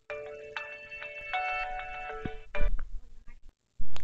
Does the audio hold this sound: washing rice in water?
no